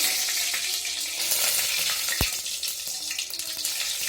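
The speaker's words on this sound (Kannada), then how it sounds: "ಈಗ ಸಾಸಿವೆ ಕಾಳನ್ನ ಹಾಕ್ತಾ ಇದ್ದೀನಿ" Oil sizzles and sputters steadily as mustard seeds crackle, with a brief sharp clink partway through; no voices.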